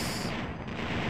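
Rapid weapon fire from an X-Wing starfighter in a Star Wars space combat game, a dense, continuous burst of blaster shots lasting about a second at steady moderate loudness.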